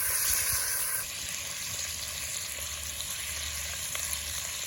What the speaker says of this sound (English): Let's get the ribs on. All right, we got 3 that we need to sear up.